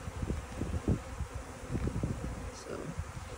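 Honeybees buzz close by while a bee package is installed into a hive, a steady droning hum with soft rustling and handling noises mixed in.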